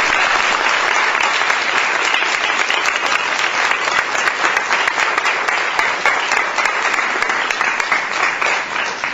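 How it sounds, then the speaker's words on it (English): A sustained round of audience applause at a 2014 Kate Stoneman Day ceremony honoring an award recipient, even and dense throughout with no voices over it. "One last round of applause for our amazing"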